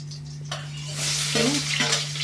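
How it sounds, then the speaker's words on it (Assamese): Onions with a little sugar frying in a pan for an Assamese chicken curry: a steady, close hiss of sizzling oil with brief stirring scrapes, heard alone over a low constant hum. "পিঁয়াজখিনি অলপ ভাজি ৰাখোঁ"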